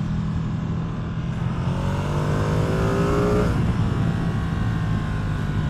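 A 2024 Ducati Streetfighter V2 motorcycle engine drones loud and close on the move, its pitch climbing and then easing back briefly. Heavy wind rush runs throughout.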